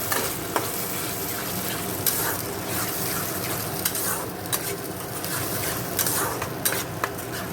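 Oil sizzles and crackles steadily while a spoon scrapes and stirs a thick spice paste around a pan, close up, with no talking.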